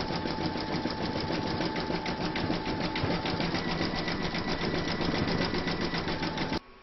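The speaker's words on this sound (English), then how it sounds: "you can now stitch round number 5, and that's going to zigzag around the raw edge" An embroidery machine zigzag-stitches around a raw fabric edge, a rapid, even mechanical chatter that runs steadily and close before stopping abruptly at the end, with no talking.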